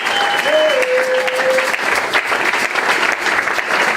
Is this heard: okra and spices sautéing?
no